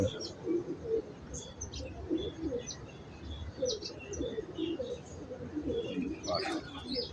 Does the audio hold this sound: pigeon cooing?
yes